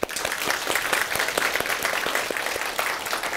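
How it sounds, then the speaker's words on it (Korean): Applause from a lecture audience at a Korean talk show, dense steady clapping filling the whole stretch at close range with no voices over it. "박수 한번 주세요."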